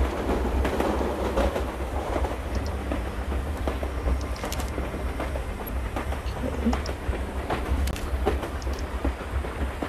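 A moving steam train in the House of 1000 Doors video game rumbles steadily, with a low continuous drone and rhythmic clickety-clack of wheels, heard loud and close.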